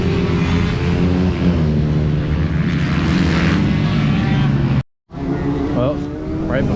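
Junior racing karts on a track run past at Ikei Island in a Rotax Masters event, engines droning loudly and continuously near the track edge, with a brief dropout before the roar resumes.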